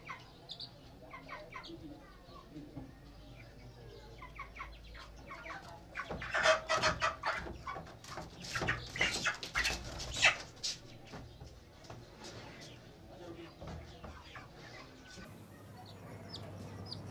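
Chickens cluck and squawk in bursts, loudest near the middle, while people talk in the background.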